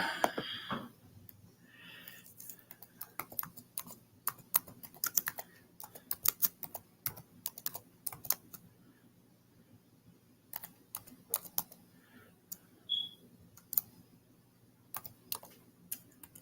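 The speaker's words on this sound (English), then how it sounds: "My fingers is moving so fast. It's typing in the wrong stuff." Rapid bursts of typing on a computer keyboard, close and crisp, with irregular clusters of key clicks separated by brief pauses.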